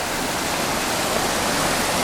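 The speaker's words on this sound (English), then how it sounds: "I'm having to step over these places where water flows over" Water pours and splashes steadily over stones where it crosses a walking path near a temple, a close, continuous broadband rush with no voices.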